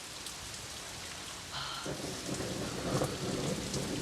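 Steady heavy rain pours through a rainy movie scene, a low rumble of thunder swelling underneath midway, while a voice speaks briefly over the downpour.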